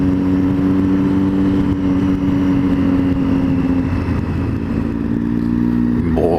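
A Triumph Street Triple motorcycle cruises down a road at about 40 mph, its engine a loud steady drone with a strong low hum and wind rush, holding an even pitch throughout with no speech.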